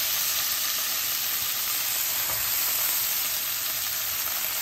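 Garlic sizzling in a pan with already-cooked green vegetables, a dense, steady hissing fry, loud and close, continuing without pause or speech.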